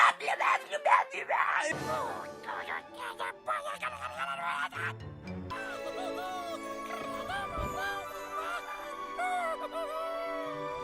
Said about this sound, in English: Guttural, raw voice coming out of Bibble.